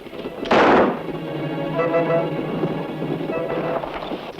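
A single loud gunshot rings out in an old Western radio drama, a sharp blast with a short decaying tail, followed by a lingering background hum and low murmuring.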